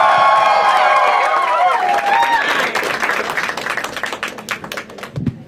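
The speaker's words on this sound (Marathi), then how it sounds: "जोरदार टाळ्या वाजवा for my brother mister Praneeth More" Audience at a Marathi stand-up comedy show bursts into loud applause and cheering, dense clapping that gradually thins out over several seconds, with scattered crowd voices mixed in.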